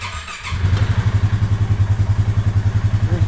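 The engine of a broken machine under repair catches after a brief cranking scuffle and settles into a loud, close, rhythmic idle with an even pulsing thump that continues steadily to the end.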